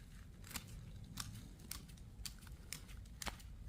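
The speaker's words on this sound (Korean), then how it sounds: "이렇게 해서 이제 뿌리를 조금 잘라줍니다." Pruning scissors snip through the roots of a potted pine tree, with about six sharp, separate cuts spread evenly over a quiet background, faint and close.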